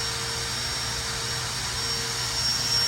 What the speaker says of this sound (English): Not only do you have a vacuum cleaner, but you've got a blower